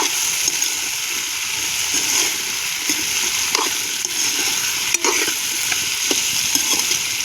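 Chopped potatoes frying with onion in a pan for masala brinjal, giving a steady, close, continuous sizzle with occasional scraping stirs and soft clicks, no voices.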